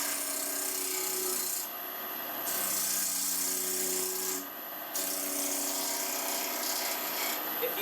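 Wood on a lathe being shaped by a turning tool for a tri-cornered box, producing a steady, continuous scraping rasp with short dips where the cut pauses, close and fairly loud with no talking.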